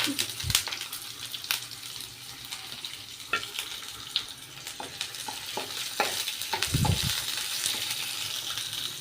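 Chopped shallots sizzle and crackle in hot oil in a pan, a steady close frying hiss broken by stirring clinks and scrapes.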